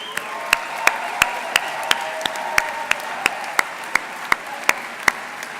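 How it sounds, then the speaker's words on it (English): A conference audience at a justice teach-in gives a steady round of applause, a dense wash of clapping with a few sharper claps ringing out at regular intervals. "to give them a round of applause"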